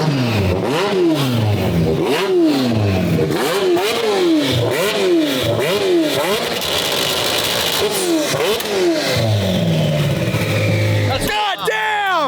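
A 1300 whp McLaren 720 GTR revs repeatedly at full throttle with rolling anti-lag, loud and close, its engine note sweeping up and down in rhythmic surges before pulling away, with people talking and shouting over it.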